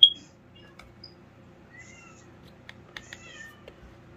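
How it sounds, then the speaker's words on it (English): A cat meows loudly once at the start, followed by faint scattered chirps and small noises in a quiet room. "my cat that won't shut up"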